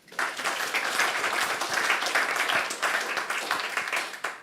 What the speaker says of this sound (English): can I have a massive round of applause for Eamon O'Keefe?